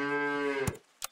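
A cartoon cow moos in the pet-battling game Super Auto Pets, one drawn-out harmonic low moo that cuts off into two short game effect clicks, clear and alone.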